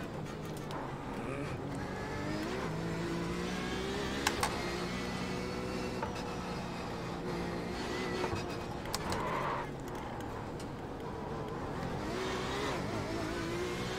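Steady Porsche RSR race car engine drone at Belle Isle in iRacing, with rapid stuttering, chattering traction-control bursts as the power cuts in and out, continuous and fairly loud with no talking.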